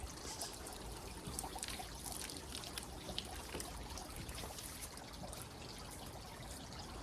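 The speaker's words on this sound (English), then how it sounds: "wiping the seals and the plastic with the magic water and the pole" A water-fed pole used for window cleaning sprays a soft steady hiss of water, with faint trickling and dribbling as it runs down the glass and frames, fairly quiet throughout.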